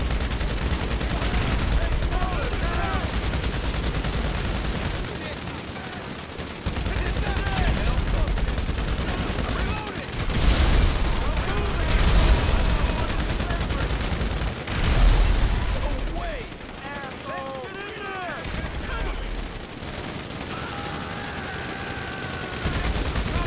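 Gunfire in GTA Online rattles in repeated loud bursts and single shots, with people talking over much of the fighting.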